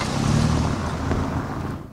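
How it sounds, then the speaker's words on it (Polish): Cars driving along roads through a city park in Silesia give a steady low engine rumble and road noise that fades slightly toward the end, with no speech. "po parku jeździ wiele samochodów"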